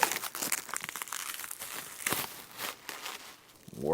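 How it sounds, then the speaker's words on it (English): Crinkly plastic packaging is peeled and crumpled off a new carbon fiber and Alcantara steering wheel for a Subaru WRX TR, with close, irregular bursts of crackling and rustling. "Let me take all this plastic off so you can all see what we're working with."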